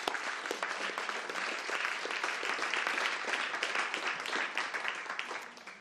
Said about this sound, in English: please give Jessica a round of applause